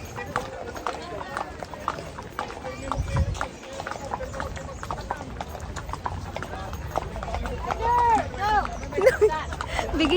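A horse's hooves clip-clop in a quick, uneven rhythm, fairly close, while people talk over the steps and a brief whinny-like sound rises near the end.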